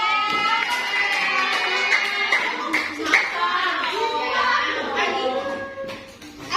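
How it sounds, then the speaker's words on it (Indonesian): Children clap their hands in a fourth-grade elementary classroom, a busy patter of claps mixed with excited young voices and shouting throughout. "Tepuk tangan dong."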